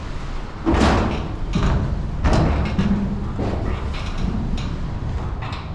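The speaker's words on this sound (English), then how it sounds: "the wind is just flexing my garage door" Strong storm wind of 70 to 80 mph pushing against a garage door, heard from inside the garage as a sustained roar with several loud thumping, flexing bangs of the door panel.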